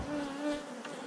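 A hornet buzzes close by near beehives, a steady tonal drone that swells and fades slightly over about a second, with no talk.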